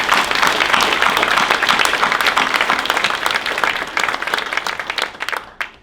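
At a chamber of commerce annual dinner, a roomful of guests breaks into loud, dense applause that holds steady for several seconds before thinning out and fading at the end.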